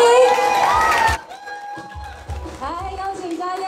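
Audience at a cosmetics brand launch event cheers and whoops loudly as actress Ko Chia-yen is welcomed, then the noise drops to scattered crowd sounds and an amplified voice speaking over it.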